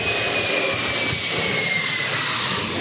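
Steady, loud roar of a jet airliner passing overhead near LAX, a broad unbroken engine rush that holds for the whole stretch with no voices.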